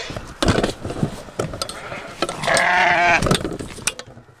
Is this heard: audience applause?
no